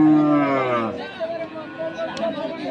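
A cow at a cattle market gives one loud, close, drawn-out moo that fades after about a second, followed by market chatter and talking nearby.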